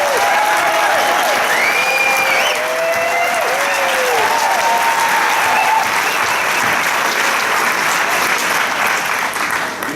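A crowd at a political rally applauds a band, a loud, continuous roar of clapping with cheers and whoops rising over it, sustained without a break for the whole stretch.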